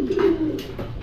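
A pigeon gives one clear, close, low coo, loud and alone, during trapdoor training at a pigeon loft.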